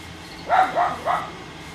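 A dog barks three times in quick succession, close by and fairly loud, each bark short and sharp with brief gaps between, and no other sounds around it.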